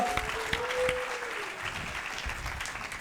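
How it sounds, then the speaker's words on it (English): Applause from the audience at an improv comedy show for its performers, fairly soft and sustained, with a brief whistle or tone early on. "Give them a round of applause, guys."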